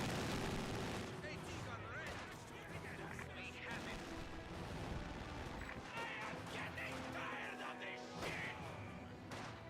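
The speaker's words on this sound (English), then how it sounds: "Maxim engaging the MG42, MG40 engaging the Maxim" Maxim and MG42 machine guns trade fire in the Company of Heroes 2 video game, dense, continuous bursts of automatic gunfire with explosive crashes, under a commentator's talk.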